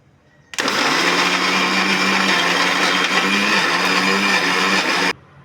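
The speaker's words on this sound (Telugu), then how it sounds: "వీటన్నింటినీ మిక్సీ పట్టుకోవాలి." Mixer grinder blending roasted sesame seeds, garlic, cumin and salt, a loud steady whirring motor roar that starts abruptly, runs for about four and a half seconds at constant strength, then cuts off.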